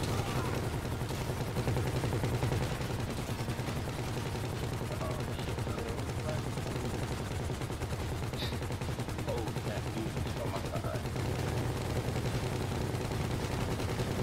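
Sustained heavy fire from a big front-mounted vehicle gun in GTA V, a relentless rapid rattle of shots running the full length over a constant rumbling engine bed.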